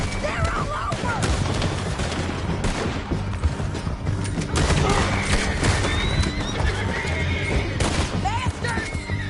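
Horses whinny amid a dense, busy battle soundscape in the video game Red Dead Redemption, with galloping hooves, clatter and distant gunfire, constant and loud throughout.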